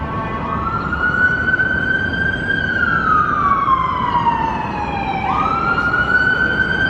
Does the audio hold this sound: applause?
no